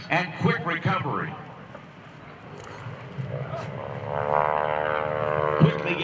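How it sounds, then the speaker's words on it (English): A stunt propeller airplane performs a spin at an airshow, its engine droning and rising in pitch in the distance while a commentator talks over it. "Then he's going to go into a spin. The airplane will be falling rapidly."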